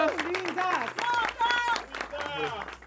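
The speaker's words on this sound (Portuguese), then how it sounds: "Palmas pra elas, que elas foram incríveis." Studio audience applause on a Brazilian talk show, a steady patter of clapping running under continuous speech and music, loud and close throughout.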